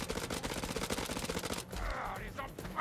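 Rapid automatic gunfire from House of Ashes rattles off in a dense, steady burst of shots, then cuts to a lower rumbling impact and muffled combat noise near the end.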